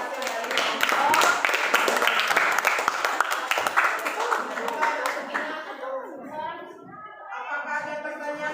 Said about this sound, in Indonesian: tepuk tangan untuk hasil dari kelompok